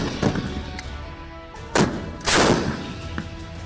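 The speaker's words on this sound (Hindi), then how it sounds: "यह धमक M777 अल्ट्रा लाइट होवित्जर तोप की है" M777 ultra light howitzer artillery firing, heavy booming blasts with a sharp crack and a longer rolling roar, loud and close, heard without talk.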